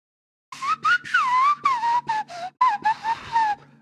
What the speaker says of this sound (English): I can also whistle very loudly.